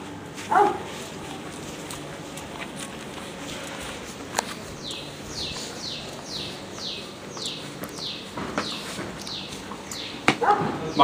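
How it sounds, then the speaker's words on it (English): Dogs barking and whimpering indoors in a villa, with scattered yips and short chirping cries rising over a faint room background. "Just put the dogs outside."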